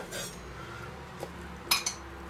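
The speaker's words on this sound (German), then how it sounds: "Ich schnippel hier jetzt bloß die hässlichen bösen Enden ab." Knife trimming the woody ends off green asparagus on a board, with a few soft cuts and light clinks of kitchenware, quiet and close, with no talking.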